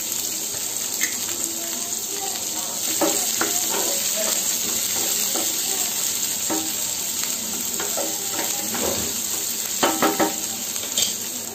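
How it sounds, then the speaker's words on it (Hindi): Urad dal, red chilies and chopped onion frying in hot oil, a continuous close sizzle with intermittent stirring clatter from a spoon. "हमारा तेल गर्म हो चुका है। हम इसमें एक चम्मच उड़द का दाल डाल देंगे, साथ में दो लाल मिर्च"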